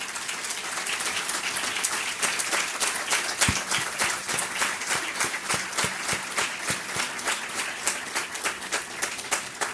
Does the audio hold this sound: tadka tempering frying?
no